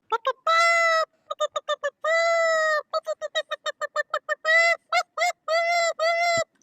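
A chicken clucks and squawks repeatedly, alternating rapid staccato clucks with longer drawn-out calls, close and fairly loud.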